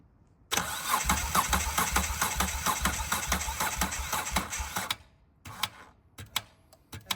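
A Moto Guzzi V7 III Special motorcycle starts with a recurring fault: the engine catches and runs roughly for about four seconds with pulsing, uneven beats, then cuts out abruptly, followed by a few sharp clattering pops.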